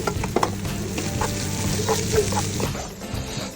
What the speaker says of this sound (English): I'm toasting it in all of the spice and the oil.